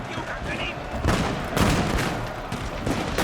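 Matchlock volleys rolling across a Shogun 2 historical battle at Nagashino, heavy bursts of gunfire cracking in waves around 1 and 1.6 seconds amid a dense, noisy battle din, with no clear speech.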